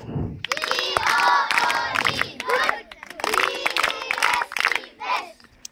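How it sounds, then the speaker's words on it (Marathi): A group of schoolchildren at a practice exam session chanting together in bursts while clapping along in rhythm, with sharp claps punctuating the lively shouted voices. "त्यासाठी आमची टीम आता इथे टाळी वाजवणार आहे"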